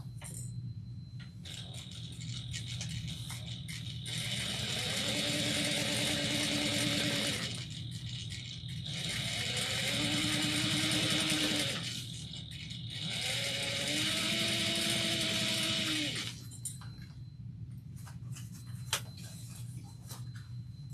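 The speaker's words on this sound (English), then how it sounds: "top stitch 1/8 of an inch on this panel." A sewing machine runs in three sustained stitching bursts while top-stitching a fabric panel, a close whirring hum with a rising whine, separated by short pauses and faint ticking.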